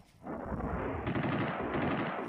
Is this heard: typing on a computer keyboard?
no